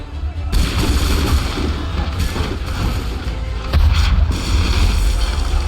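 Naval cannon fire in the Assassin's Creed 3 Remastered game, with heavy booming blasts and a dense crackle of gunfire running continuously throughout, loud and close, with a fresh surge of blasts near the end.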